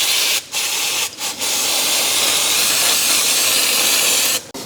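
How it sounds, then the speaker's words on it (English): Brake cleaner sprayed from an aerosol can onto Yamaha WR450F dirt bike engine parts after an oil and filter change, a steady loud hiss broken by a few short pauses between bursts. "I will clean it with brake cleaner."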